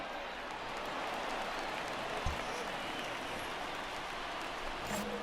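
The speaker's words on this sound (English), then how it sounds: "I can hear the crowd murmuring now, wondering if he hit him on purpose" Steady crowd murmur fills a baseball video game stadium, a dense continuous hum of spectators with a few faint claps, holding at an even level throughout with no talk on top.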